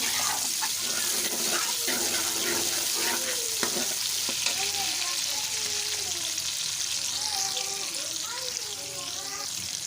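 Onions fry in a pan for an Indian-style aloo and arbi dish, a steady, loud broadband sizzle throughout with occasional scraping stirs, while a voice talks intermittently underneath.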